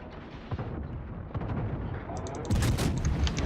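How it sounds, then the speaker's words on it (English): Ship guns firing in the naval battle game World of Warships, deep rumbling booms and rolling blasts building in loudness, with a heavier salvo near the end. "Try and open fire for maximum range."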